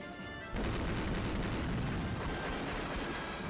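Sustained dense gunfire barrage in the visual novel game Rose Guns Days, starting abruptly after a brief quiet moment and roaring loud and continuous with overlapping shots and booms, no talk.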